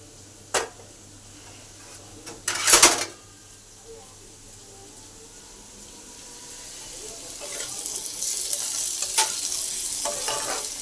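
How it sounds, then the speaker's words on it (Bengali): Food fries in a pan at home: a few sharp knocks and a short clattering burst come first, then a soft sizzle builds and holds steady for the remaining seconds. "তো চলো ভাজাটা ভেজে নিই"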